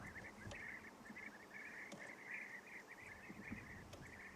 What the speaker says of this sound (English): that sounds like European bee-eaters on their way back home